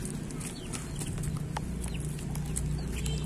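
Chickens in a coop cluck softly at a moderate distance, scattered short calls over a steady low background murmur, with no speech.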